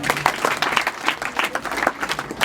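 A crowd applauds with a dense, steady burst of clapping that keeps going throughout, lively and fairly close.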